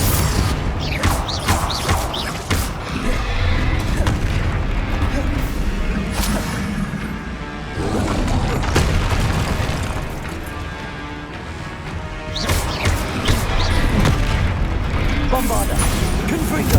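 Explosive spell blasts in the Hogwarts Legacy video game, loud repeated booms and crashing bursts in dense close combat, with sharp impacts scattered over a constant rumbling clatter.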